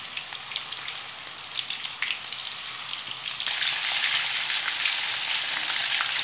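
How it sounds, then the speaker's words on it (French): Minced meat balls sizzle and crackle in a pan with a little oil, a steady close frying hiss with scattered pops that grows slightly louder midway. "dans une poêle avec un peu d'huile, je vais faire frire mes boulettes de viande hachée"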